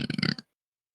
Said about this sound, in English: Why are you burping?